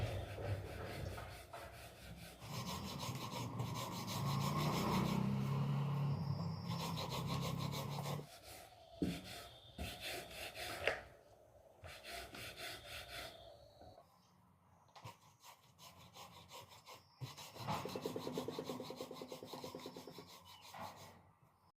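Hands roll and rub rice-flour dough into thin ropes on a surface dusted with rice flour. Soft, close rubbing and scraping strokes come in repeated bursts with short pauses between them, and no one speaks.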